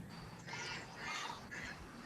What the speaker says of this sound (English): The ducks sound happy.